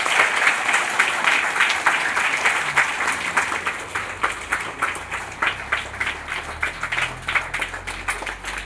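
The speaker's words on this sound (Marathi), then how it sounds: "सर्वांचं टाळ्या एकदा स्वागत करायचं" A gathered crowd at a Zilla Parishad school in Kangaon, Daund, claps steadily to welcome guests for a Disability Day celebration, a sustained round of applause lasting the whole stretch.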